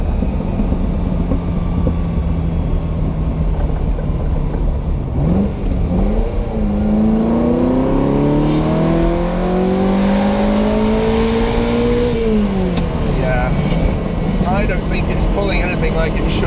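Ferrari 308 engine revving on a straight while driving, slightly rough and firing on more cylinders as it climbs; pitch rises and falls in long sweeping wind-ups over steady road noise.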